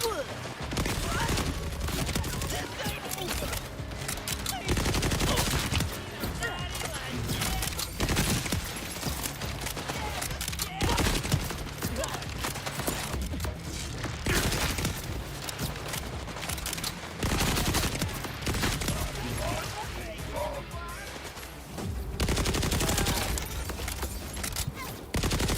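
Rapid gunfire from a low-recoil weapon in Borderlands 4, firing in long sustained bursts with brief pauses, loud and dense throughout, mixed with game effects.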